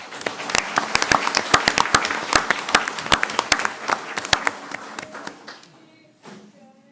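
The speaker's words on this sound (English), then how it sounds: "One more round of applause for our super readers and our math masters" Audience at a Cook County school board meeting applauds students, a burst of close, dense clapping that thins out and fades to near silence, with a brief murmur of voices at the end.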